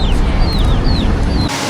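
Chicken-like baby birds walking around outdoors give several thin, high chirps in quick succession over a dense, noisy background.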